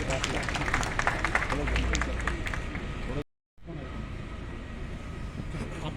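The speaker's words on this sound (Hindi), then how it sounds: "जोरदार तालियां श्री गुरमीत सिंह जी के लिए" Dense, steady applause from a crowd at a municipal flag-hoisting and honouring ceremony for Shri Gurmeet Singh, a loud wash of clapping that cuts out briefly before quieter crowd noise resumes.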